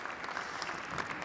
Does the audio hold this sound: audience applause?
yes